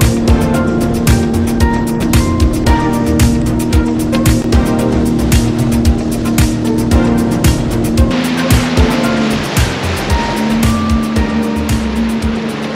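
A Sea-Doo personal watercraft cruises along the Lake Erie coastline near Port Colborne, its engine droning loud and steady with the rush and slap of water throughout.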